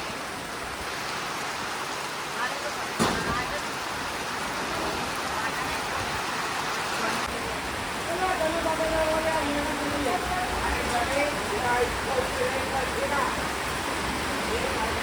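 Heavy rain pours in a steady, dense hiss over an outdoor vegetable market, with distant voices and market bustle faintly underneath.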